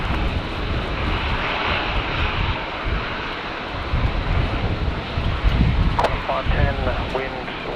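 An airplane lands on runway 19 left at Brisbane Airport on a windy day, its engine roar continuous and broadband, mixed with gusting wind noise on the microphone.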